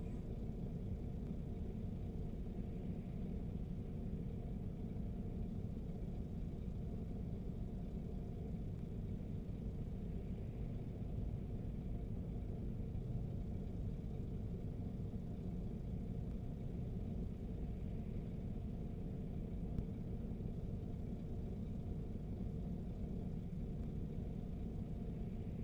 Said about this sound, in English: just listening to the truck is kind of maddening